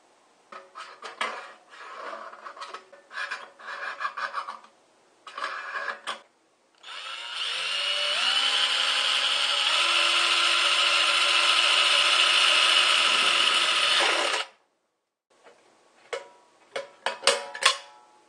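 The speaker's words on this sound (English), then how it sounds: "now I'm going to mark off and drill the hole for the air inlet on the side" A power drill bores a hole through the side of a steel can for a rocket stove air inlet, running steadily for about seven seconds with the whine shifting pitch as it bites, framed by clattering handling of the can before and after.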